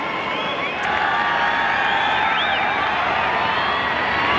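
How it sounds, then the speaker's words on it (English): A crowd at a 1993 rugby league match between Manly-Warringah Sea Eagles and Illawarra Steelers cheers a try, a steady, far-off roar of voices with whistles and whoops rising over it for several seconds. "Crowd loves it."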